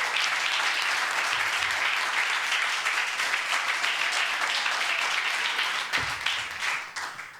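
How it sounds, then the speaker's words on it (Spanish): Sustained applause from a church congregation praising the Lord, dense steady clapping from many hands filling the room, fading slightly at the end, with no talk over it. "¿Cuándo da un aplauso al Señor?"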